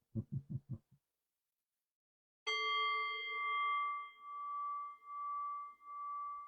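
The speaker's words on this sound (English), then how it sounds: "I'll ring the bell to close us out." A meditation bell is struck once at the close of a talk on kindness, giving a clear bright ring that hangs and slowly fades for several seconds, following a brief burst of low knocking or soft thuds.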